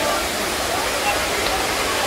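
Dunns River Falls in Ocho Rios, Jamaica, roars as a loud, dense, steady rush of falling water close by. It fills the whole moment without a break, and a voice is faintly present beneath the noise.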